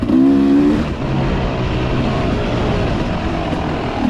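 A Beta 300RR dirt bike with stock gearing runs in third gear on a trail, its engine giving a steady, close droning buzz that holds nearly constant throughout with no talk.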